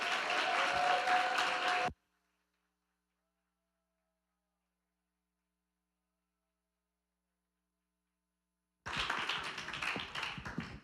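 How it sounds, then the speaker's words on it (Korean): A church congregation claps to welcome a missionary speaker, dense applause for about two seconds, then silence, then a second burst of clapping. "우리 큰 박수로 모시겠습니다."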